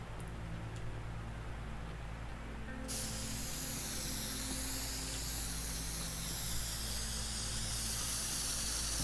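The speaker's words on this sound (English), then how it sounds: "So again, we use the spray can" A spray can hisses in the game Teardown. A faint background hum gives way to a loud, steady spraying hiss that continues unbroken to the end, with no voices.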